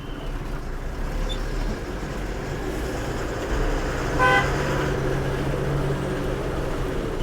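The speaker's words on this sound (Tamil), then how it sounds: "ரைட்டில் ஒரு வண்டி போகுது" Vehicle passing on the Outer Ring Road, heard from inside a moving truck as a steady road rumble with a brief horn toot midway.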